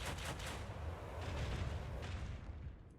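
Prow cannons blast in a space combat game, a dense, continuous barrage of booming, rumbling shots that stays loud and heavy for the whole span before tapering slightly at the end.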